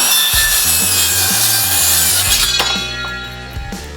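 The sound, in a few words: WORX 20V circular saw making 45-degree cut in molding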